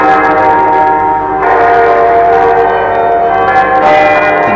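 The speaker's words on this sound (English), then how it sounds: "all the bells of the city announced the sanctity of the day, Sunday" Church bells ring across Glasgow on a Sunday morning, a dense, steady wash of sustained overlapping tones that swells in fresh waves roughly every couple of seconds.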